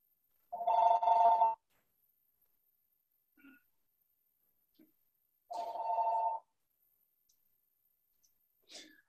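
An electronic telephone rings twice in a quiet room, each ring lasting about a second with a long gap between, followed by faint clicks and a brief breath.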